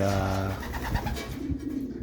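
Pet pigeons coo close by in a short burst, with a soft flutter as they take off, under background noise and a voice.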